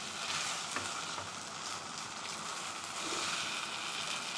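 Dough sautéed in ghee for spicy white adai hisses in a pan, a dense, even sizzle close up with faint stirring scrapes throughout and no talking.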